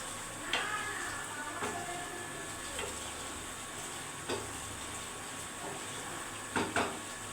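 Mustard oil sizzling in a pan while paneer curry cooks, a steady low frying hiss with occasional faint clicks and stirring taps, no talk.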